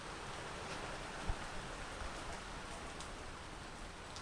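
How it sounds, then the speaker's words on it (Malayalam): Rain falls steadily in Kuttikkanam, a faint, even hiss of drops with no other sounds standing out. "കണ്ടോ, മഴയോട് പെയ്യുന്നുണ്ടെങ്കിൽ പെയ്യ്"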